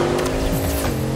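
A purple luxury SUV rolls past nearby, a brief loud surge of engine and tire noise lasting about a second.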